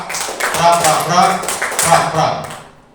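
A group claps hands in short bursts at a school training session, with voices talking over and between the clapping.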